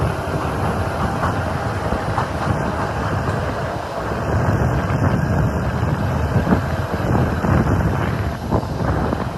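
Santragachi–Puri special train 02837 running on the line, a steady broadband rumble of wheels and carriage with wind buffeting the microphone throughout, loud and continuous with no talk.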